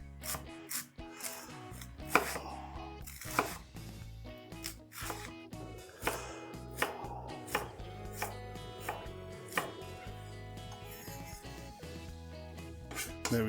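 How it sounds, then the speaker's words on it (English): A knife finely chops ginger on a board for homemade potstickers, making close, crisp, irregular chopping knocks spaced a second or so apart, with no talking. "Chop your ingredients really fine."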